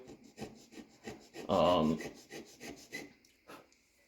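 Hand checkering tool rasping across a walnut gunstock, cutting fine lines at about 20 to the inch, heard as short repeated scraping strokes in a steady rhythm, with one louder, longer rasp midway.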